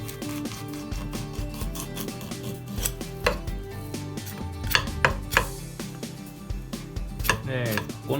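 A kitchen knife cuts along the back of an amadai tilefish during filleting: close, irregular crunching and scraping strokes with sharp clicks against the board, some louder cuts standing out.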